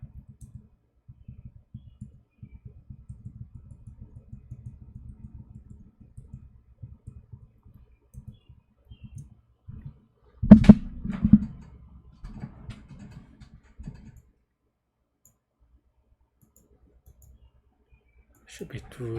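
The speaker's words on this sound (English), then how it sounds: "I have to click on this button." Faint, scattered computer mouse clicks and light key taps at a desk during a coding contest, with a louder burst midway and a voice speaking at times.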